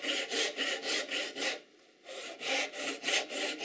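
A hand saw cuts a pine board along a marked line to start the kerf, with about eight rhythmic rasping strokes, close and clear, and a brief pause midway.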